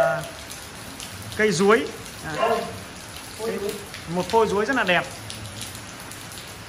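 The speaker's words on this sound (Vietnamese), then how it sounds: "hôm nay ngoài trời này quý vị này, trời đang mưa rất là to" Heavy rain pours steadily outdoors at a tree-growing gathering, a constant broadband hiss running the whole way under someone talking close by.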